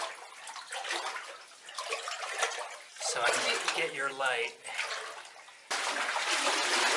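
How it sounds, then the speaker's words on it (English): Someone wades through knee-deep water in a humid cave reached by kayak on the Colorado River, the sloshing and splashing coming in uneven surges while a person speaks nearby. "We're sloshing through the water."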